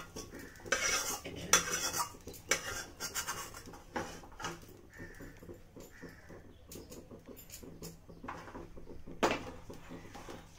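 Fried dhoka, Bengali lentil cakes, being lifted out of a frying pan: clinking metal utensils and scraping against the pan in irregular bursts, close and moderately loud, with no talking.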